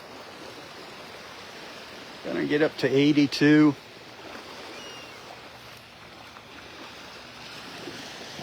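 Gentle surf washing over a beach sandbar as the tide goes out, a soft continuous hiss of breaking water; someone speaks briefly partway through.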